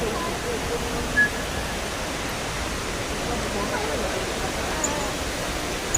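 An indoor waterfall inside Dubai Mall makes a steady, broad rushing roar of falling water that fills the space evenly, with faint crowd sounds in the background.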